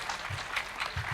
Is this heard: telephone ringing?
no